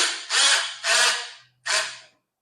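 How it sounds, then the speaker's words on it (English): An electric winch runs off a small jump pack to lift a car engine, giving three short whirring bursts separated by brief pauses, close and clear with no voices. "I power the winch with just a little jump pack"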